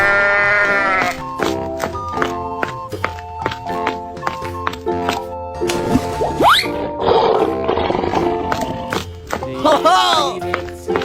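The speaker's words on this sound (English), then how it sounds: "sheep" A sheep bleats amid a children's nursery-rhyme song with melodic tones, the animal calls rising briefly over the music in the latter half.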